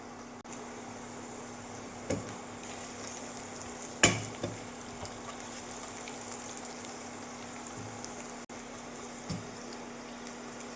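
Sliced onions frying toward golden brown in a pan for Mughlai-style chicken korma, a soft continuous sizzle punctuated by occasional scrapes and clinks of stirring, fairly quiet and close with no talk.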